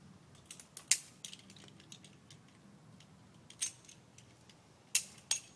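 Light metallic clicks and taps from a DMM oval carabiner being handled while a tree-climbing rope system is rigged, a few sharp close ticks spaced out over a quiet low background.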